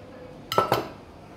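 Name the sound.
stirring roasted peanut powder into ground masala paste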